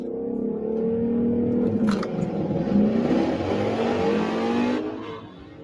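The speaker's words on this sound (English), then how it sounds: "That thing rips pretty good. It's very surprising for an SUV." An SUV engine revs hard and accelerates, a loud rising whine and growl that climbs in pitch, holds for several seconds close by, then fades as it pulls away; no talk over it.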